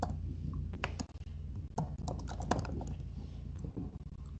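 Quick, uneven taps on a computer keyboard while someone types a search for Karate API automation, fairly close and moderately loud, with no talking over it.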